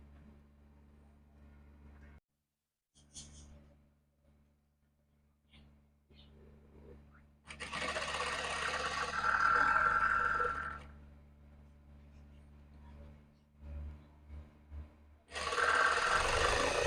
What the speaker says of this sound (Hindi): जब आप इसको सिलाई लगा रहे हो तो एक चीज ध्यान रखें